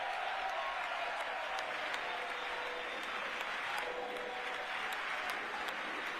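Members of Congress cheering and booing at a State of the Union address, heard through a broadcast: dense, continuous crowd applause and shouting that carries on without a break at a moderate, slightly distant level.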